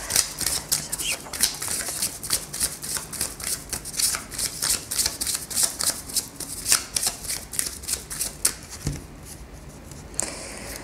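A deck of tarot cards being cut and shuffled during a reading: a rapid, steady flutter of crisp card riffles close by, repeated clicks running for several seconds before easing off near the end.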